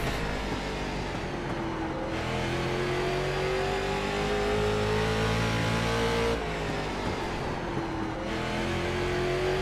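Street stock car engine in iRacing at Slinger, running a K5 Championship race: a steady, loud engine drone that stays close, its pitch sagging and rising as the throttle eases off and comes back on, with no voices.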